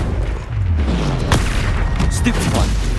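Confringo spell explosion in Hogwarts Legacy, a loud booming blast with crackling debris amid continuous combat rumble, with a voice casting spells over it.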